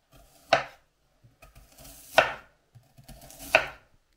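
A knife cuts a head of garlic into thin slices on a board, three distinct sharp chops spaced about a second and a half apart in a quiet room.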